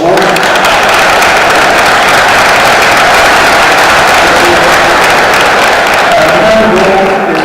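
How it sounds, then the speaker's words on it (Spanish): A large audience at a book presentation during a book fair breaks into loud, sustained applause that stays dense and even throughout, with a faint murmur of voices underneath. "Un aplauso, por favor."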